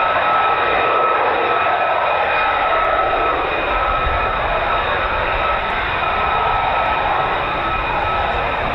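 A Pratt & Whitney F135-powered F-35 stealth fighter of the 48th Fighter Wing at RAF Lakenheath roars loudly and steadily throughout, a broad sustained jet rumble with a high whining tone, no speech.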